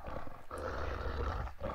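A big beast growls and roars low and menacing from nearby, a steady rumbling snarl with brief pauses, heard alone as a tabletop role-play effect.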